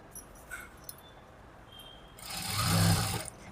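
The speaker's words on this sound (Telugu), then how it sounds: "దాన్ని బట్టి ఒక 1/2 ఇంచ్ వెడల్పులో పెట్టేసుకొని స్టిచ్ చేసుకుని వచ్చేసేయండి" A sewing machine stitching the waistband of a heavy-size blouse at a half-inch width, a short close whirring run near the end after quiet rustling, with no speech.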